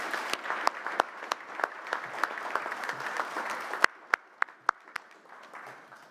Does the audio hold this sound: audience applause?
yes